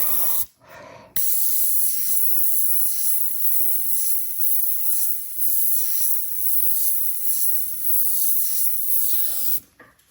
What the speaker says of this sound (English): I will spray a little bit of more intensity in this area because it needs to be brighter